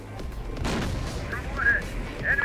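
Enemy gunfire rattles through a combat scene in Terminator: Dark Fate - Defiance, with a burst near the start and further crackling shots fading in and out, all under radio-style voice chatter.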